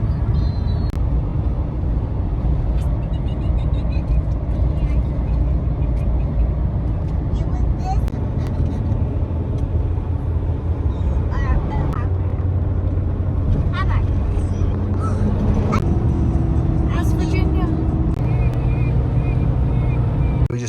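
A Ford Super Duty F450 Powerstroke diesel pickup towing on the highway, cruise set at 70 in 10th gear, gives a steady low engine and road drone, with light rattles and passing noise over the constant hum.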